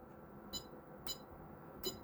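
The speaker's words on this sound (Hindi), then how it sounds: "मीटर को लगाते हैं बज़र पे" A digital multimeter set to its continuity buzzer, used while testing a Haier DC inverter air conditioner PCB, gives three short, faint, high-pitched beeps spaced irregularly over a quiet, hissy background.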